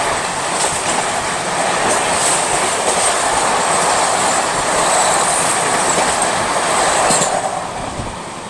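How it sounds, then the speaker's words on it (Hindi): The Kanyakumari–Dibrugarh special train rushes past close by in a loud, continuous roar of rail noise with rhythmic clickety-clack from the wheels and a faint squeal near the end. "तो भाई यही थी स्पेशल ट्रेन"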